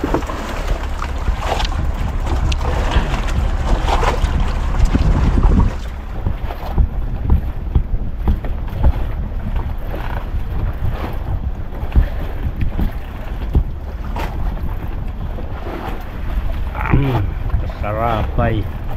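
Loud fishing boat motor droning close by at sea amid heavy wind buffeting, with voices talking over it throughout.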